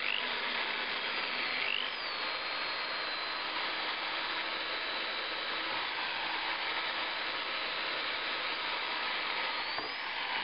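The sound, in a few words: drilling with a drill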